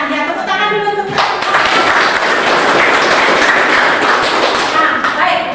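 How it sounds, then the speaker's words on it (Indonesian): A classroom group of students applauds a classmate, a burst of dense clapping that starts after a short spoken moment and fills the space steadily for several seconds before a voice returns at the end. "tepuk tangan dulu untuk"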